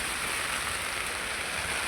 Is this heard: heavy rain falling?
yes